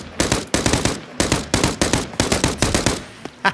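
Rapid bursts of automatic gunfire in the shooter game Arena Breakout Infinite, loud and close, fired in several long sprays separated by short gaps, with a final lone shot near the end.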